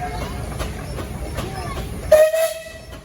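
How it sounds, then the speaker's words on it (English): A steam traction engine's whistle gives one short, steady shrill blast near the end at a steam and threshing show, rising over a busy outdoor crowd with talk and machinery underneath. "What's the whistle sound like, John?"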